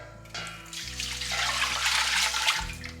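Vinegar poured into a pickle brine mix for dill pickles, a steady close splashing stream that builds over a few seconds under a low background hum, with no voices.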